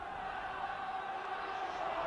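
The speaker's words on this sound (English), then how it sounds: "A big crowd here then at the Boulevard, and Hull's supporters in very good voice." Hull rugby league supporters in full voice at the Boulevard, a faint distant roar of crowd noise filling the background under a commentator's talk.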